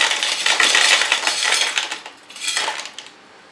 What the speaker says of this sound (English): I will fill up at first a layer of the bigger pumice